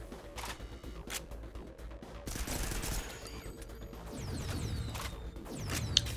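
Gunfire from the video game Synthetik comes as rapid bursts of automatic shots and sharp mechanical clacks, loud and close, mixed with game sound effects.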